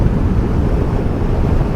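A Vespa GTS 125 scooter engine runs at full throttle while climbing a long, steep hill, a steady loud low drone mixed with heavy wind rush from riding.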